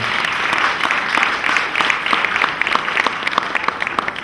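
A church audience applauding, with steady, dense clapping from many hands throughout and a few sharper individual claps standing out near the end, with no clear voices.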